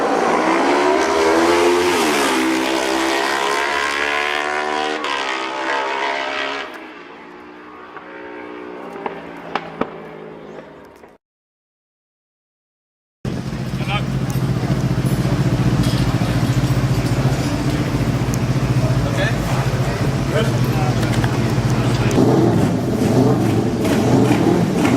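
Racing motorcycles at the Isle of Man TT scream past at full throttle. A loud high-revving engine rises and falls near the track, then cuts to a short silence, followed by a steadier roar of machines at speed.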